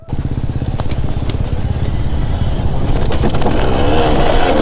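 A KTM 150 enduro motorcycle climbs a hill on a wheelie, its two-stroke engine buzzing loud and close with a rising, raspy pitch, crackling throughout without talk.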